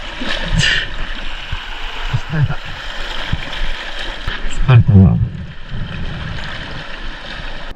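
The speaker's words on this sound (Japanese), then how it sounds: "波が強すぎるな" Strong sea waves surge and crash among rocks on a rocky coast of Yakushima, Japan, loud and close in bursts, with someone speaking tiredly over the noise.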